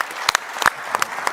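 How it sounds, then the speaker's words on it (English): Audience applause at a panel event in Charlotte, North Carolina, greeting the city's police chief; a short burst of clapping with scattered sharper individual claps, steady and moderately close, with no talking. "so everybody give this guy a round of applause"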